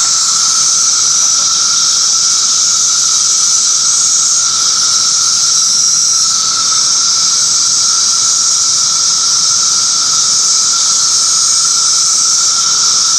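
Several periodical cicada species sing together in a dense, unbroken droning chorus that holds steady and loud throughout, a continuous high whine with a second sustained tone beneath it and no voices.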